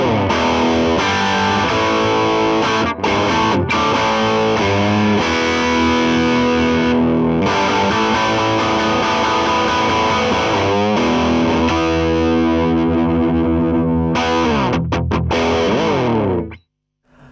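Electric guitar on its bridge pickup through an Orange Rocker combo amp, with gain at about halfway: thick distorted chords and riffs ring out loud and close for most of the passage, then cut off abruptly at the end.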